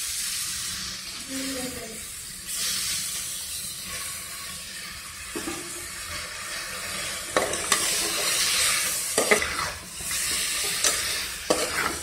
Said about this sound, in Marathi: आता आपण त्याच्यात मटण घालणार आहोत।